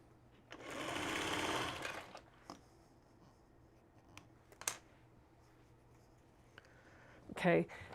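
A sewing machine stitches long seams in one short, steady whirring run of about a second and a half, followed by quiet handling clicks and a brief rustle of fabric near the end.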